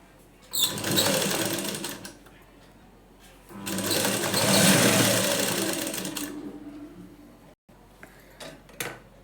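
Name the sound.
sewing machine stitching a blouse front part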